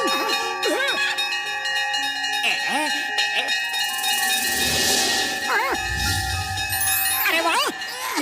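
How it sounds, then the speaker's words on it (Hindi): A temple bell in a Motu Patlu cartoon rings out in several bright, ringing metallic strikes that sustain and overlap, with a cartoon score and voices mixed underneath. "चलो दोनों एक साथ मिलके इस घंटी को बजाते हैं।"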